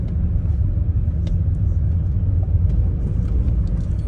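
2013 Audi A4 2.0 TDI diesel driving on the road with manual gear shifts, a loud continuous low cabin rumble of engine and road noise, steady throughout with a few faint clicks on top.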